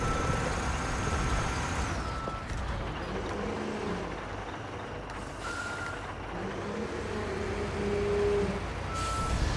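A truck in Construction Simulator rumbles steadily, its engine drone filling the scene while faint intermittent tones sound over it; no talk is heard.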